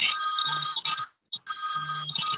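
A telephone rings in a radio studio, two loud, close trilling bursts separated by a short gap, with no voices over it.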